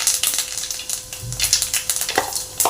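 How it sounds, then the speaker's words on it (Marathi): Cumin seeds, added after mustard seeds, sizzling and crackling in hot oil, a dense close crackle with sharp pops and a brief stir, no voices. "1 चमचा जिरे घालूया।"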